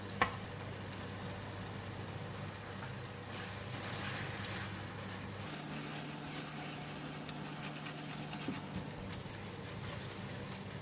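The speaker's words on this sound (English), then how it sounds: "So we just make sure that we stir fry until the Tom Yum paste has separated out." Glass noodles with tomato and Tom Yum paste stir-fried in a pan, a constant close sizzle with faint scraping under a low steady hum, and no one speaking.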